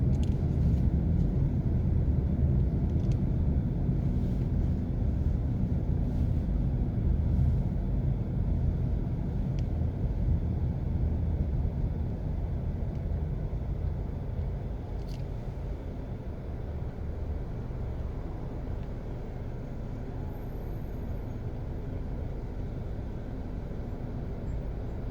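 A car drives along newly finished road lanes with a steady low engine and tyre rumble from inside the cabin, continuous and slightly fading over the stretch, with faint ticks above it.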